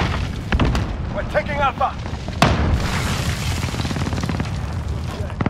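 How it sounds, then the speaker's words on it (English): Grenade blast during a Domination match of Call of Duty Modern Warfare on the Hovec Sawmill map, a single sharp boom midway through, with game voices speaking just before it and gunfire and rumble continuing after. "Grenade out."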